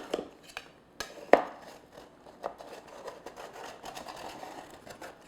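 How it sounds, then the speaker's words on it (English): Metal spatula run around the edge of a sponge cake pan, a series of faint scraping and clicking contacts at uneven intervals with a few sharper knocks, quiet and close. "I've got a spatula here, and what you want to do is run it all the way around"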